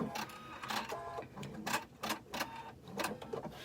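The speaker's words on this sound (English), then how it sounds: "And I'm gonna stitch over my bit." A sewing machine fitted with a megapiping foot stitches an outdoor cushion cover, running in quick rhythmic bursts with brief pauses between runs, close up and with no talking.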